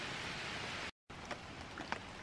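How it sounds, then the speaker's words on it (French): Rain falling on Île d'Orléans, a steady hiss of drops with a few louder nearby taps, briefly cut out and then resuming. "Oui, la pluie est arrivée sur l'île."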